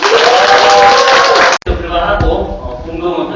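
A crowd applauds at a Democratic Party officials' appointment ceremony in Bongdong-eup, a loud amplified voice speaking first, then a dense, steady wash of clapping from many hands that follows a brief dropout.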